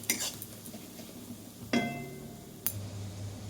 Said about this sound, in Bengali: এটা সিমেই আমি আর কি মশলাটা ভাজছি, ভালো করে ভেজে নেবে